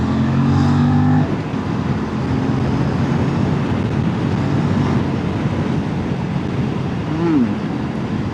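Aprilia RS 457 motorcycle on a city ride, its raw engine note a steady, loud broadband drone with wind rush throughout, a brief tonal rise near the end.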